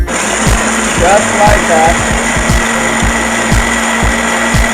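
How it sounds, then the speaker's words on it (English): Electric food grinder churning peppers, scallions and onions into a semi-coarse grind for Thanksgiving chicken stuffing: a loud, steady motor whine with rhythmic chopping pulses, close up, with a brief spoken remark. "So we're going to grind all of this up,"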